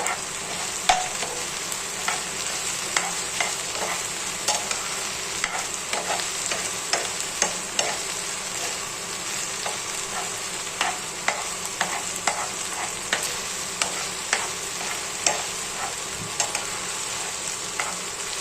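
Onion fries in a pan for paneer bhurji, giving a continuous hissing sizzle dotted with regular scraping and tapping from stirring, close up and fairly quiet, with no one speaking.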